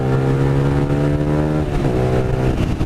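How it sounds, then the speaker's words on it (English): A 600cc sport motorcycle engine, warmed up and ridden in the rain, holds a loud steady drone, then its pitch drops and climbs again as the rider downshifts, close and continuous. "I could probably downshift twice right now"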